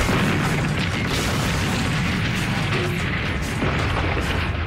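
A dense, continuous artillery barrage thunders from an opening Allied bombardment, deep overlapping booms and rumbling blasts merging into one loud, unbroken roar.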